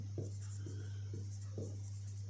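Chalk or marker strokes on a board during a Hindi grammar lesson, a series of short scratchy bursts in an irregular rhythm, close and clear over a constant low electrical hum.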